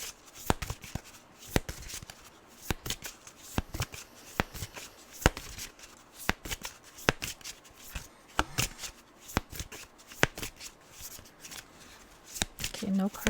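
Tarot cards are shuffled and handled in repeated sharp riffles and slaps, close by, in an uneven rhythm over about a dozen seconds, with quiet pauses between bursts.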